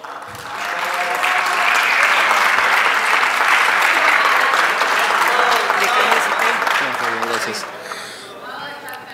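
Deputies of the 15th legislature applaud during an ordinary parliamentary session. Dense, sustained clapping fills a large chamber for several seconds, then thins and fades, with voices murmuring underneath.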